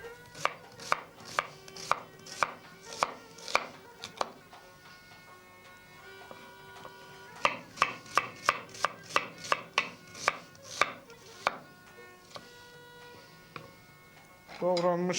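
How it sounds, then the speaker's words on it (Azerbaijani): A knife slices an onion on a cutting board in a steady run of sharp, close taps, pausing briefly midway before another quick burst of even chops; no voices. "Then slice the onion."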